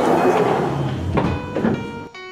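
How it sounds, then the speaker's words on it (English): Subway train doors in the video game Automatic Subway Train 2 slide shut, a soft thunk and rumble with a closing tone, followed by a steady electronic chime as the train sits ready. "Doors are closing."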